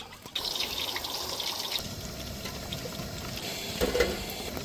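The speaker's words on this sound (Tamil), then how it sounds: "ஆயில் ஊற்றுறோம்" Cooking oil poured into a pan for frying chicken, a soft continuous liquid trickle lasting several seconds, close and moderately quiet, with no talking.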